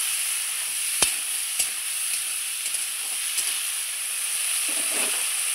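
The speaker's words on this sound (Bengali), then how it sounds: "পরিমাণ মতো হলুদ গুঁড়ো দিয়ে আমি ভালোভাবে নেড়ে নিচ্ছি" Broad beans stir-fried with turmeric and salt in a pan give a steady close sizzle, broken by a few sharp clicks of a spatula scraping through, with no voices.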